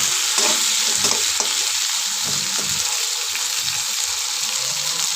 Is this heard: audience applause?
no